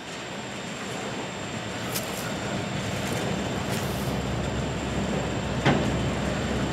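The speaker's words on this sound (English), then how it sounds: "He's coming back with the same train." Freight cars of a Norfolk Southern train being shoved back along the track, a steady rumbling roll with faint clanks and a sharp metallic knock near the end, heard from a moderate distance without talk.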